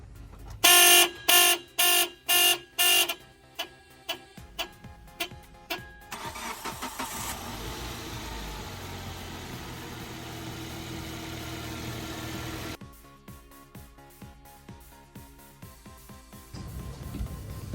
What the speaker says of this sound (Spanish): procederemos a arrancar el vehículo